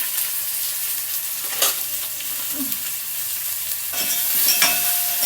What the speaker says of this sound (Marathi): फोडणीत टाकायची वांगी.